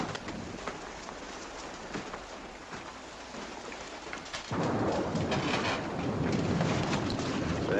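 Steady rain pours down with rumbling thunder in an outdoor wartime setting, a constant hiss that grows heavier and louder about halfway through, with no voices.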